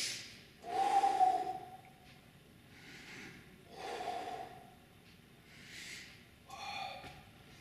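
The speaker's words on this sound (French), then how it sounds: "je vais souffler sur la redescente" Forceful breaths puffed out during an abdominal exercise, heard as four or five separate close exhalations with a slight whistle on the first, spaced by quiet pauses and no talk.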